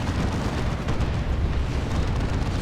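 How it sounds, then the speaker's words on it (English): Cyclone missile launcher fire in a Warhammer 40k Dawn of War 2 battle: a continuous, dense roar of explosive blasts and rumbling booms, loud and sustained throughout with no talk. "Cyclone Missile Launcher."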